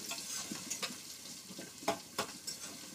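Onions frying over a high flame for mutton curry, a steady close sizzle with a few sharp scraping stirs and utensil knocks, no talk.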